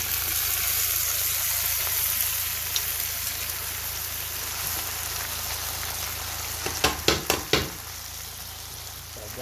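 Rice goes into a pot of chicken haneeth, a constant loud frying hiss with a quick cluster of clattering knocks near the end, no voices.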